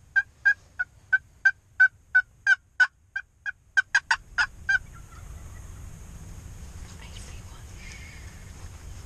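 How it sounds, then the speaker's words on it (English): Wild turkeys on rural property gobble in a fast run of about fifteen sharp, evenly spaced calls over several seconds, close and clear, before giving way to a quieter outdoor background. "The Larsons have some great property full of turkeys"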